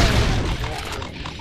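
Dense, continuous gunfire and booms from Doom TNT: Evilution played co-op with the Brutal mod, loud throughout with a slight drop midway, no voices.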